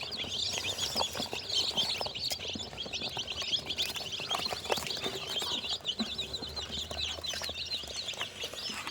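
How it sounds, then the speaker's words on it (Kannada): One-day-old pure native country chicken chicks chirp busily and continuously, a dense high-pitched peeping close by, with faint background rustle and no talk. "ಆದ್ಮೇಲೆ ಫೈನಲಿ 1 ಡೇ ಮರಿ ನಾಟಿ ಕೋಳಿ, ಕ್ರಾಸ್ ಅಲ್ಲ, ಪ್ಯೂರ್ ನಾಟಿ ಬಂದಿದೆ."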